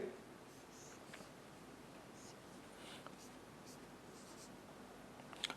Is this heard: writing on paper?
yes